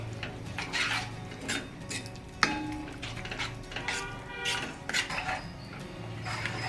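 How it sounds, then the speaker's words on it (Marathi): Methi (fenugreek) bhaji with ground masala being stirred in a pan, a spoon scraping and clinking against the metal in irregular bursts, close and fairly quiet, with no talking. "भाजी चांगली मिक्स करून घ्यायची"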